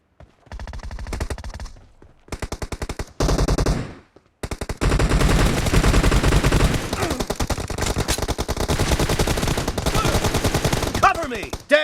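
Rapid automatic gunfire from a shooter video game, several choppy bursts with short gaps, then a long sustained barrage of loud shots.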